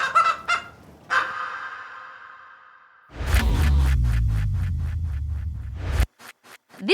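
Chickens cluck and squawk with harsh, honking calls, then a burst of scratchy flapping and rustling mixed with sharp cries, fairly close and loud.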